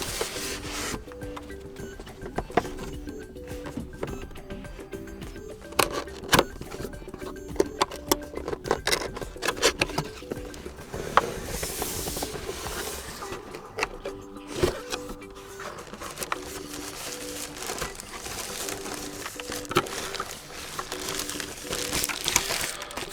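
Cardboard box of a Dark Project KD87A keyboard being opened, with plastic packaging crinkling, rubbing and rustling in irregular bursts up close for a long stretch, no talk.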